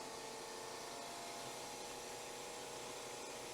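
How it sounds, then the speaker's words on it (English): SITEK 260-S spin rinse dryer spinning at around 1800 RPM, a steady high-pitched whirring hum with a constant airy rush, faint and unbroken, with no voices. "As you can see, it's ramping up at a very, very high RPM."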